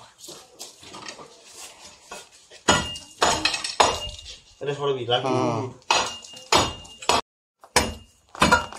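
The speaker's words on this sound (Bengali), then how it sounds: "আগে এই প্লাস্টারটা ফাটিয়ে নাও" Wall plaster is struck and broken open to reach a hiding common krait, giving a series of sharp, loud cracking blows at an uneven rhythm, with people talking between and over the strikes.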